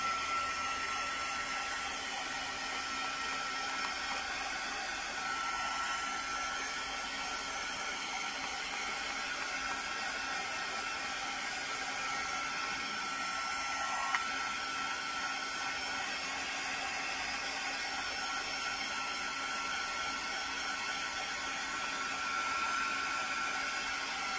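A hair dryer blows continuously at a steady pitch while drying decoupaged paper pockets, a constant close whoosh with no talk over it.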